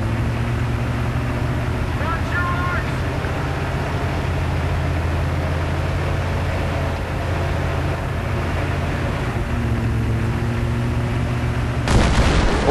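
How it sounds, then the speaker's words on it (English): Battlefield 3 co-op combat in the Exfiltration mission, with a steady low engine rumble and scattered gunfire before a sudden loud explosive burst near the very end. "Oh, big explosion."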